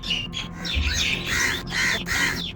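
Caged parrots give loud, harsh squawks in several ragged bursts close by, calls overlapping with short gaps between them.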